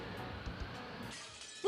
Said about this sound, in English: Why does it have to be glass shattering?